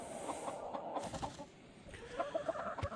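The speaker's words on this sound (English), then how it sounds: "There is my showgirl silky rooster." A silkie rooster clucks softly in a series of short, quiet, close clucks. There is light background noise and no talking.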